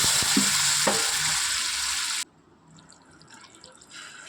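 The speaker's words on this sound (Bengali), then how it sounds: "তারপর দেখো এর মধ্যেই আমি দিয়ে দিলাম পরিমাণ মতো জল।" Water poured into a pan of pointed gourd and prawn curry with potatoes: loud, close frying hiss and sizzle with splashing for about two seconds, then cutting abruptly to a quieter low bubbling simmer.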